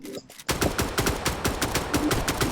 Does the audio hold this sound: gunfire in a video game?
yes